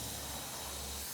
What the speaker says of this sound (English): There's steam coming out from under the bonnet.